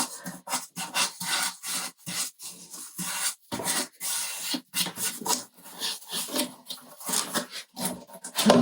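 Sandpaper rubs découpage paper off the edge of a wooden drawer in quick, repeated rasping strokes, close and loud, with short pauses between bursts.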